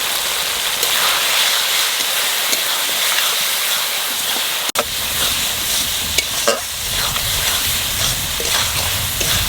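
Spice masala sautéing in a pan for a curry of a large aair fish: constant close sizzling with scraping stirs, one sharp click midway, and no voices.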